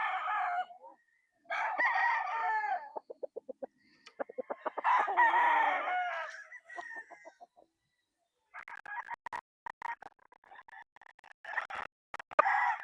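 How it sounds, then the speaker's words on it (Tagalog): Gamefowl roosters of roundhead, kelso and sweater crosses crow repeatedly on a farm, several long calls overlapping with clucks and sharp bursts, fairly loud and close with a few brief gaps between. "Mga roundhead, kelso at saka sweater crosses yung mga reds namin."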